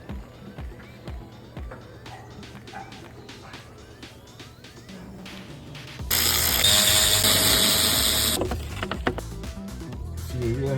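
A ratchet with a 13 mm socket on a universal and extension works valve cover bolts on a Ford 7.3 Powerstroke diesel, giving rapid close clicking bursts, with a louder stretch of noise midway.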